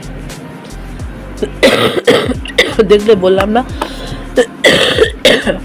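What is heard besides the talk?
coughing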